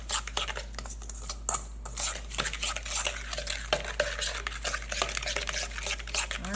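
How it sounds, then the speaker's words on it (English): A utensil stirring and scraping vegan lemon cookie ingredients in a bowl, loud and close with continuous rhythmic clatter and no speech. "I'm just gonna mix that together."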